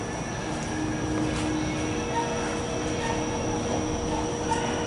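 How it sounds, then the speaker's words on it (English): A Fujitec hydraulic elevator at a 1980s resort building departs, giving a steady mechanical hum and rumble with faint tonal whine and occasional light clunks, continuous and fairly close throughout. "There goes that elevator."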